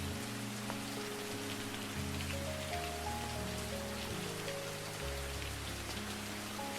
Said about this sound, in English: let's just pause and enjoy the soothing sound of the rain